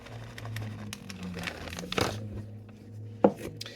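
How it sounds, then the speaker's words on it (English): A knife taps and chops pine nuts on a cutting board for mushroom pesto pasta, a scatter of quiet close knocks with one sharper thud near the end, over a low background hum. "I'm also going to cut up some pine nuts"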